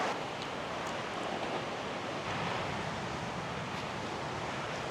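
Ocean waves washing onto a beach on Koh Chang, a steady broad roar of surf mixed with wind, continuous and moderately loud with gentle swells, no talking.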